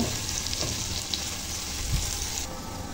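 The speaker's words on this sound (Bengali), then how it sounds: "এখন চুলার আঁচটা বাড়িয়ে পেঁয়াজটা ভেজে নেব।" Onions sizzle in hot oil with a steady, soft crackle, and faint stirring clinks come through now and then.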